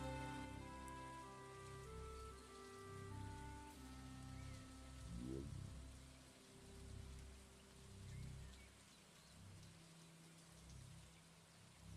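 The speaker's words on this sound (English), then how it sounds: "I just want like rain ambiance from Stardew Valley" Steady rain ambiance from the video game Stardew Valley, a soft continuous patter with low tonal music notes beneath it, quiet and even throughout.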